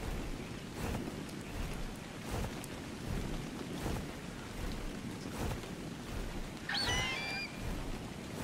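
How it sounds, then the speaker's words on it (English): Rain falls steadily in Ark Survival Evolved, with recurring muffled thunder thumps and a brief high chirp near the end, all fairly faint. "Be nice if that rain would stop real quick here for me."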